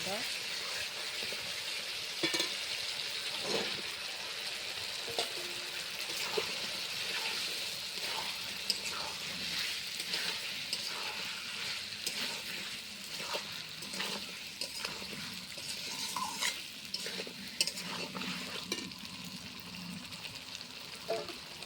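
Meat being sautéed in spiced oil that has released from the masala, a steady loud sizzle and frying hiss with intermittent stirring scrapes throughout.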